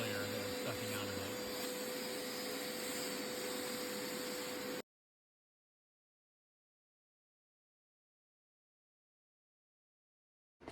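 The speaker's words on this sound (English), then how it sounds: "I got a fan in here now, just kind of blowing away, kind of helping dry it out a little bit." An electric fan blows inside a 2006 Acura TSX to dry freshly cleaned carpet, a steady, loud whooshing hum with a constant tone for about five seconds before the sound cuts off to silence.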